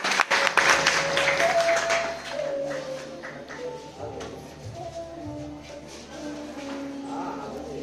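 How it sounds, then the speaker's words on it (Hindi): Audience clapping welcomes a student performer at a college drama event, loudest at the start and then thinning out, with voices and faint tones mixed in beneath. "जोरदार तालियों से स्वागत कीजिए।"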